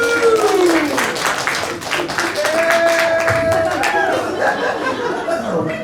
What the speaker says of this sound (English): Audience, round of applause if you're in love tonight.